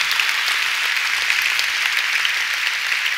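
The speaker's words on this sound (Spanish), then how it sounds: "Den un aplauso al Señor" A church congregation applauds, praising the Lord during a Sunday service: steady, dense clapping from a large crowd that holds at an even level throughout, with no voices over it.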